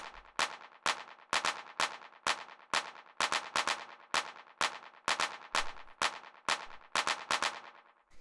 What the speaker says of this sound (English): This is just like a standard kind of clap playing over basically all the quarter notes.